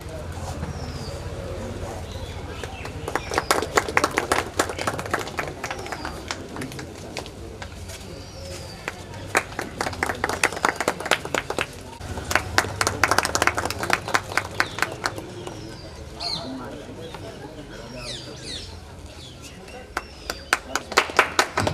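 An audience at a village library opening claps to welcome a guest, with bursts of applause rising and fading several times, a speaker's voice over a hall microphone, and pigeons cooing in the background.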